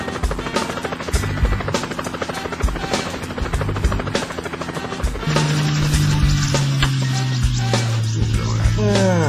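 Helicopter in flight, a loud, close, rapid rotor chop with a steady engine whine that thickens and grows louder partway through, lasting about nine seconds.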